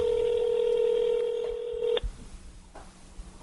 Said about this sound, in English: So we're calling up Adrian